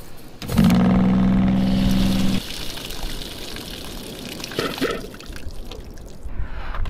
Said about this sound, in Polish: muszę spuścić wodę z rurek, z kranu i z tych właśnie filtrów